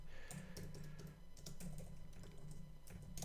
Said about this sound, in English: there's so much typing